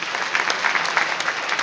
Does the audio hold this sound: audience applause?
yes